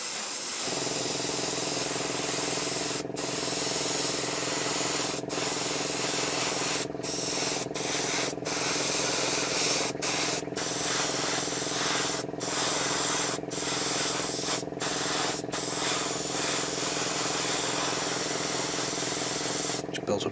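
An airbrush lays a light coat of paint on a 1/12 scale Bandai Boba Fett model, a steady close hiss running almost the whole time, broken by brief gaps where the air is cut.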